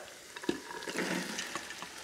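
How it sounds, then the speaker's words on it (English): Soaking water drained off soaked white cannellini beans in a kitchen: a soft, continuous splashing pour with small gurgles and clinks, fairly quiet and heard alone. "And then you just wanna drain that water out"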